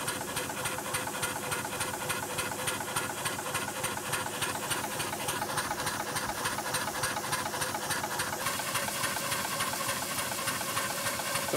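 A Fowler R3 steam traction engine runs in reverse on a new crankshaft, producing a continuous rhythmic mechanical chuff and hiss that stays steady and even for the whole stretch, with no talking.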